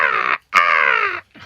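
A man imitates a seagull call with his voice, giving two loud, harsh squawking cries in close succession, the second longer, then a brief trailing sound.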